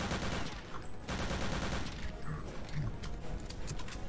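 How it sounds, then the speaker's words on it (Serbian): Rapid bursts of gunfire in the video game Wolfenstein, a tank level, crack out in quick succession over a busy, cluttered game soundscape, fairly loud and close. "Čuje se u vreme neko pucanje."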